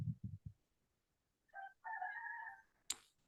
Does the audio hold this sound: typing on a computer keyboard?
no